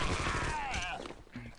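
Machine gun fire in the video game Armed & Dangerous, a dense burst of rapid shots up close that fades out, with a voice mixed in.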